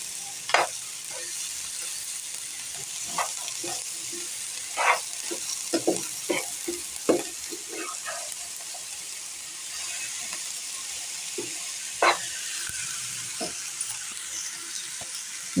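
Sweet corn and chopped ridge gourd are stirred while frying in a pan: a steady low sizzle broken by a series of spoon knocks and scrapes at irregular intervals, close and moderately loud.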